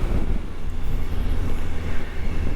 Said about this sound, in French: il y a du vent qui vient d'un peu partout aujourd'hui parce que ça souffle